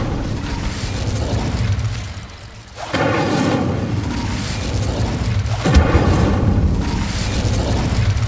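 A fire spell blast cast in the Hogwarts Legacy video game on PS5: loud booming bursts of flame, one erupting near three seconds and another near six, with a continuous roaring rumble between and no talk.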